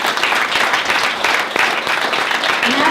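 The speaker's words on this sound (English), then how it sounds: "So, big round of applause, please, for Peter Cameron." Loud, steady audience applause at a community event, dense clapping filling the whole stretch without a break.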